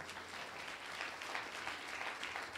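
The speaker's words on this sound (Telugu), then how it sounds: "అందరు గట్టిగా చప్పట్లు కొట్టండి." A church congregation at a Sunday service claps together, a dense, continuous patter of many hands that holds steady throughout.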